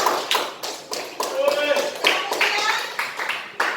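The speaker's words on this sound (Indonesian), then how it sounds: "Kita beri aplaus dulu untuk kelompok 2." A classroom audience gives a round of applause for a student group, with brisk, close clapping in quick bursts that run throughout, and some voices mixed in.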